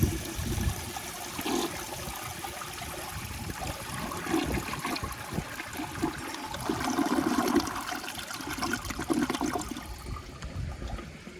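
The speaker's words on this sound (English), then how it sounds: "then I'm gonna flush it with the tank lid on" A 1977 Universal-Rundle Citation toilet flushes with its tank lid on: a close rushing, gurgling swirl of water that surges in waves, then tapers toward a trickle as the bowl drains, with no talking.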